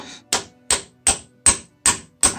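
Six evenly spaced metallic hammer taps on an upside-down 15mm socket, driving a pilot bearing into place during a Nissan Xterra/Frontier clutch installation; each strike is sharp, close and loud with short ringing decay between blows.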